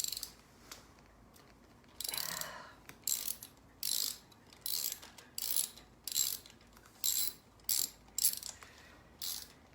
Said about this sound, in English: make sure that your socket is oriented for the removal of the nut or whatever you're removing, and just go ahead and take it out